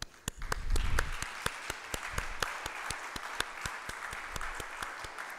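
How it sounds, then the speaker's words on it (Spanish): Sustained audience applause at a 2019 conference closing ceremony in Coimbra, offered in honour of the women present: dense, steady clapping with sharp individual claps standing out, swelling early and then holding at a lively, even level. "un gran aplauso."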